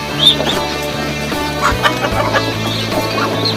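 Ducks, chickens and chicks kept in backyard pens cluck and chatter steadily at close range, a low rhythmic clucking running throughout with higher chirps scattered over it.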